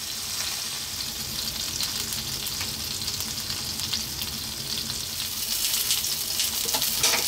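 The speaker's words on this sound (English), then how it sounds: "Want to kind of just above a medium heat now. I just need to fry them for 5 minutes." Steady, dense sizzle of seasoned breakfast items frying in a pan just above medium heat for a full English breakfast, a continuous hiss that swells slightly louder near the end with no voices.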